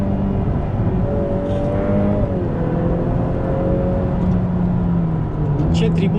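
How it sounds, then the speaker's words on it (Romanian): A Ferrari F8 Spider's twin-turbo engine drones loudly and continuously, with a shifting pitch as it revs and whirs, heard from inside the car, with a faint high whistle near the end. "se aud turbinele în spatele tău acolo"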